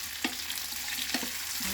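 Vegetables shallow frying in a little butter and oil with steady soft sizzle, broken by a few brief stirring scrapes from a spoon in the pan, close and alone.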